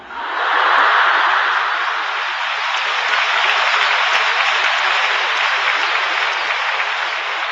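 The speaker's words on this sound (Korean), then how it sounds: "이 강연 중에 자연 발생적으로 박수를 연속으로 치는 건 이건 수준이 있는 분들입니다." A lecture audience at a talk on laughter therapy claps continuously, a loud, dense wash of applause that swells at the start and holds steady for several seconds.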